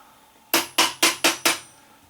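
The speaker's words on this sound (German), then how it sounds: "und klopfe die gerade mit dem Hammer etwas fest" A hammer taps a metal cover onto the drive wheel of a Heng Long Leopard 2 A6 RC tank being fitted with metal upgrade parts: five sharp, close metallic knocks in a steady rhythm, with quiet pauses between them.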